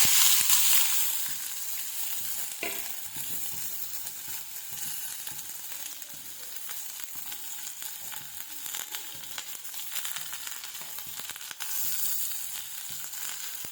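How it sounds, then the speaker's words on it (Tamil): Sliced onions sautéing in oil in a kadai for ghee rice, a continuous close sizzle with occasional stirring scrapes, steady and moderately loud throughout with no talk. "இப்போ கடாயில் எண்ணெய் ஊற்றியாச்சு நான் பெரிய வெங்காயம் மூணு எடுத்து நீல வாக்கில் சின்ன சின்னதாக அரிஞ்சு வச்சுருக்கேன் அதை நல்லா வதக்கிக்கணும்"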